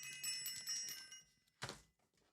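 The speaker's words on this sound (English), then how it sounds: "I'm going to ring the bell again." A bell rings with a bright, sustained metallic tone that decays over about a second, followed by a single soft thump.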